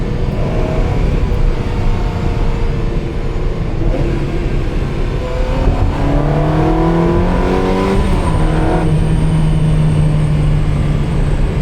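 A flood-salvaged Ferrari 360, revived and on the road, revs loudly from close by, its engine note climbing and falling through several sweeps over constant road noise, with no voices.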